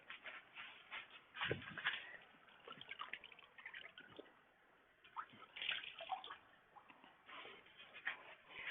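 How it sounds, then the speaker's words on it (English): Fabric is lowered into a tub of water to soak before indigo dyeing. Soft, intermittent sloshing and splashing comes in uneven bursts with quiet gaps, close but faint, with no speech. "I'll put this in the water, and then I'll pull out the one that I already prepared for you guys."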